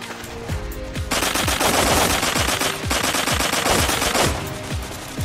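Rapid automatic gunfire rattles in the blocky online shooter Blockpost, with loud sustained bursts of machine-gun fire broken by brief pauses and thudding shot impacts, no voices.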